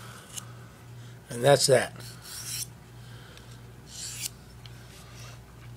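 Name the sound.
knife blade pulled along a sharpener from heel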